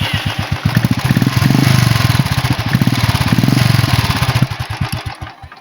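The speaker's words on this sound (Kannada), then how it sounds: "ನನ್ನದು ಸೈಲೆನ್ಸರ್ ಮಾಡಿದ್ದೀನಿ. ಅದರದ್ದು ಸೌಂಡ್ ಜಾಸ್ತಿ ಏನಿಲ್ಲ," Royal Enfield Thunderbird touring motorcycle fitted with a modified silencer, its engine thumping close by in a loud, rapid, even beat that swells as it is revved and then falls back to a slower idle.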